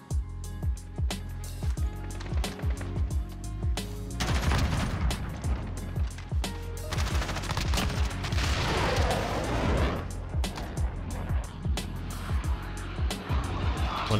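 Gunfire from a military shooter video game, with quick broadband shots and bursts scattered through a continuous loud mix of game engine noise and effects, heaviest in the middle stretch.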